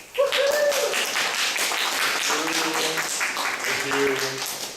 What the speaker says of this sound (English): Then let's please welcome you with a big round of applause.